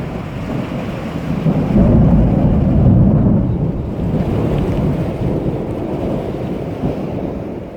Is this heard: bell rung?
no